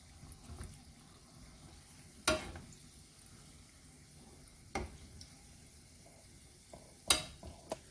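Mandazi, Ugandan fried dough, bubbling in hot oil with a low steady crackle while being turned, three sharp clacks of a utensil against the pan standing out at intervals.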